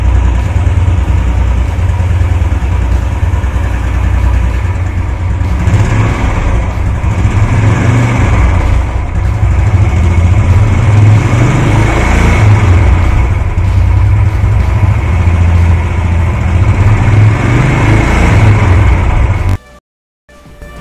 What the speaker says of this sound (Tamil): இந்த BS6 மாடலோட எக்ஸாஸ்ட் நோட் ஃபஸ்ட் எப்படி இருக்குன்னு கேளுங்க